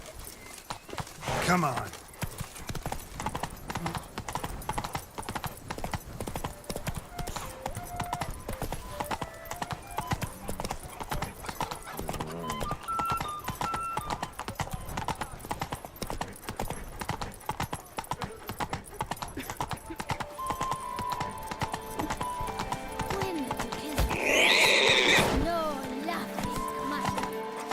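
Roach, the horse in The Witcher 3: Blood and Wine, trots with a steady, rapid clip-clop of hooves throughout, a whinny near the start and a louder burst of game sound near the end, while someone speaks briefly over it.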